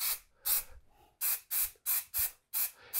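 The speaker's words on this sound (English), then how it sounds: "you want to stand back quite a bit when you're actually spraying that primer" Shellac-based BIN primer sprayed onto Bondo-patched cabinets in repeated short bursts, about eight loud hissing blasts separated by brief pauses.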